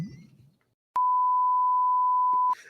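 A single steady electronic beep, a pure tone held for about a second and a half, loud and clean, with faint voices before and after.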